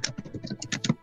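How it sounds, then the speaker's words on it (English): Keys on a computer keyboard are tapped in a quick, irregular burst of close, crisp clicks during a game livestream, with no talking over them. "and there's more of the typing"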